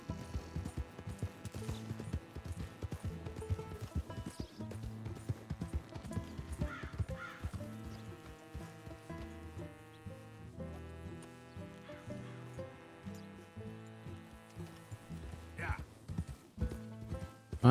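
Horse hooves clip-clopping in Red Dead Redemption 2, with a neigh and other animal sounds mixed under game music, played fairly quietly while someone talks over it.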